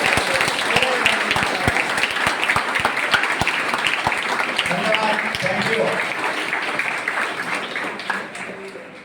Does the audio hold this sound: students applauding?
yes